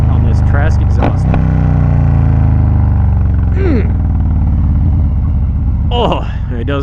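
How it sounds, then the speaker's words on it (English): A Harley-Davidson FXLRS motorcycle with a Trask exhaust decelerates, its deep loud rumbling burble rolling off close by with a few crackles, while someone talks over it. "let's just listen to this decel on this Trask exhaust"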